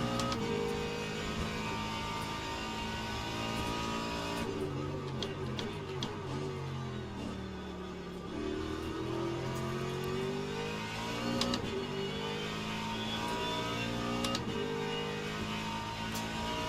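A Mustang GT3 race car in the sim-racing game Le Mans Ultimate, lapping Sebring, gives a steady, loud engine drone with rising revs and gear-change dips throughout, alone with no talking.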